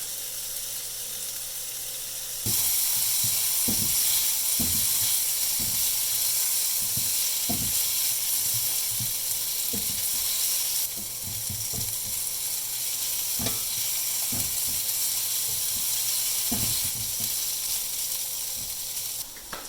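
Continuous loud sizzling of vegetables for pad thai frying in oil, broken by repeated scraping and clacking from stirring in the pan.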